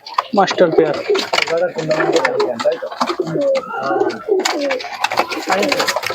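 Several Pakistani breeding pigeons coo repeatedly up close, their throaty, rolling calls overlapping with occasional soft fluttering and shuffling.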